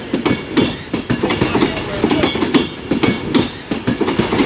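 An express train runs non-stop through Crewe station, its wheels beating a fast, steady clickety-clack close by that fills the whole stretch.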